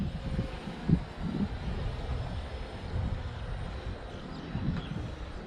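A JJRC X3P GPS quadcopter flies and descends, its steady whirring rotor drone filling the air at moderate loudness without a break.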